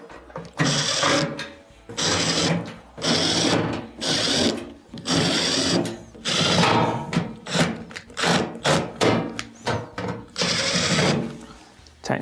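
A power tool drives and tightens the center bolt on a washing machine during a stator assembly repair, with repeated loud bursts of whirring and rattling separated by short pauses, close to the microphone.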